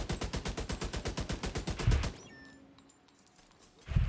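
Rapid automatic gunfire from The Division 2 on PC, a steady burst of evenly spaced shots for about two seconds, loud and close, followed by a quieter gap and then another heavy impact at the end.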